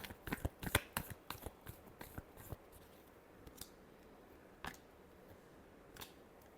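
Tarot cards are shuffled close up in a quick flurry of sharp riffling snaps that thins out into a few scattered taps, with no talking.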